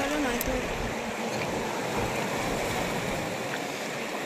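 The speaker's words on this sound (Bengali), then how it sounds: "এখন আপনারা দেখাচ্ছি যে কতটা জল বেড়ে গেছে আর জল কতটা সমস্ত কোরালগুলোকে আস্তে আস্তে ডুবিয়ে দিচ্ছে।" Rising high-tide sea water washing over coral at Laxmanpur Beach on Neil Island, Andaman, a steady loud rush of surf and swirling water close by, with a voice talking over it.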